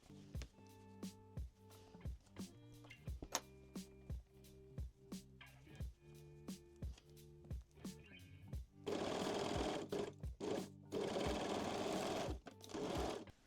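A sewing machine stitches a side seam of lingerie panties in short separate bursts, a run of brief stitching spurts, then a louder, longer continuous run near the end.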